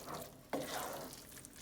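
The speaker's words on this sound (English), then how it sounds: "we're going to give it a bit of a stir here" Leek and smoky bacon risotto is stirred in a pan off the heat, giving a soft, close scrape and faint wet sizzle, with a small spoon clack partway through.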